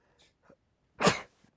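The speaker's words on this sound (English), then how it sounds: "I have to sneeze again." A single sharp sneeze bursts out after a couple of faint breaths, loud and close, then quiet.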